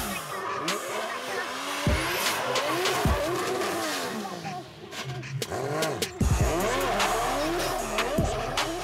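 A modified saloon race car with 820 horsepower accelerates hard, engine revving up and down through gears with tire squeal and passing car noise, loud and close.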